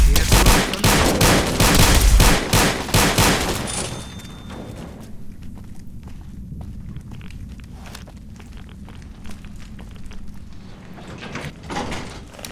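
Rapid bursts of gunfire from a modded gun in Fallout New Vegas, loud and dense for the first few seconds, then a few scattered shots and clanks with quieter game ambience afterward.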